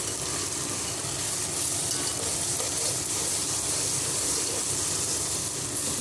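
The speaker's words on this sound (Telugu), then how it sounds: "ఇప్పుడు ఒక నిమిషం పచ్చి వాసన పోయే వరకు ఫ్రై చేసుకుందాము" Ginger garlic paste frying in a hot pan gives a steady, dense sizzle, loud and close, holding evenly throughout with no voices over it.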